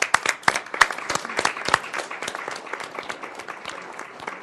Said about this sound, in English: Round of applause for all the things they're doing before you comment, okay?